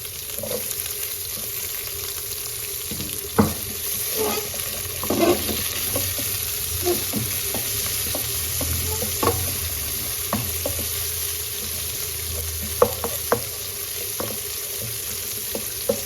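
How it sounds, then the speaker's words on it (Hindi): Medium-sized finely chopped onion softening gently in a pan for chicken paratha, with a steady soft sizzle throughout and occasional stirring clicks and scrapes of a spoon against the pan. "बस हल्के से सौते करना है, नरम करना है इसको"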